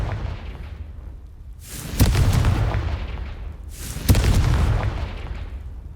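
Two booming fire-spell blasts from Hogwarts Legacy, the Confringo spell, land about two seconds apart, each a loud, sharp burst that rumbles and fades away.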